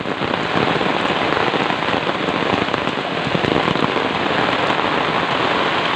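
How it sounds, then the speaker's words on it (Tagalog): Heavy rain pours steadily near a rice field on a muddy slope, a dense, loud, continuous hiss of drops striking surfaces with no let-up. "Lalong lumakas yung ulan, guys."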